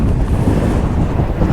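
Strong wind pelts a truck and RV trailer parked on open ground with no trees or structures for shelter, making a loud, continuous low roar and buffeting right against the microphone throughout.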